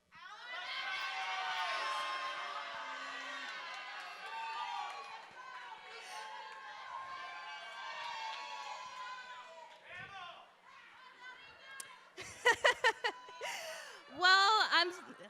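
At an international Ms pageant, an audience cheers and shouts for contestants, a sustained wash of voices with a host speaking over it and a few sharper whoops near the end.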